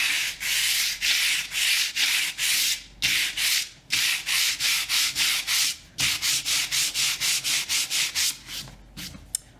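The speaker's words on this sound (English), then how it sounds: "I've replaced my sandpaper, and now we're going to reveal what we have here for our distress on the peaches word." Sandpaper rubs back and forth across a painted wood sign to distress the lettering, a close, steady scratchy rasp in rapid repeated strokes with brief pauses between bursts.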